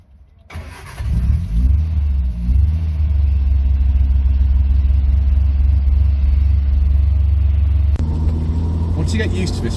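A 1973 Triumph Toledo 1300 engine starts up and settles into a loud, steady rumbling drive, with a brief shift in tone near the end.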